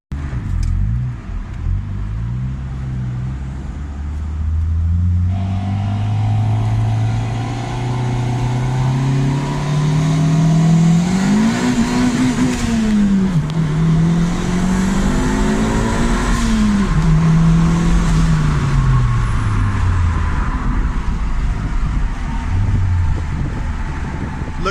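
A turbocharged Honda D16 two-door car on a test drive, the engine rising and falling in pitch through repeated revs and gear changes, loud and close, with road noise throughout and no talk.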